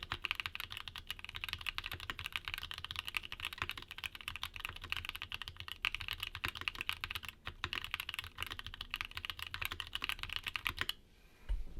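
Smooth mechanical keyboard switches typed on continuously in a rapid, even stream of close, crisp keystrokes, stopping briefly just before the end.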